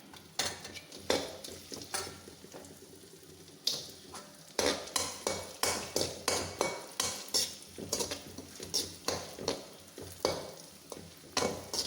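Raisins are added to a pan and stirred, producing a steady rhythm of scraping spoon strokes against the metal with a light sizzle underneath, close and clear with no voices.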